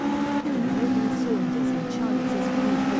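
Race cars in the Clubman Drivers Championship drone along the track, a steady sustained engine whine with shifting pitch close by, while a commentator talks over it.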